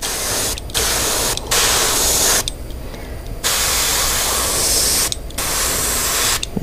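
Bursts of airbrush spraying paint at turned-down pressure for detail work, a sharp hiss that starts and stops several times with brief quiet gaps between.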